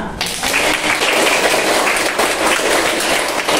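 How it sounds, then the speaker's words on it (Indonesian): A grade 8 class at an Islamic junior secondary school applauds student groups. Clapping bursts in just after the start and continues as a fairly loud, crowded patter from many pupils to the end. "Tepuk tangan untuk semua"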